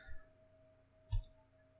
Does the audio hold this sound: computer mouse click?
yes